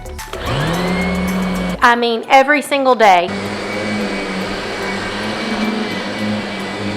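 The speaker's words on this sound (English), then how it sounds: "First of all, you're vacuuming every single day." A Kirby vacuum cleaner runs loud and steady, with a brief break where a person talks, then its drone resumes and continues to the end.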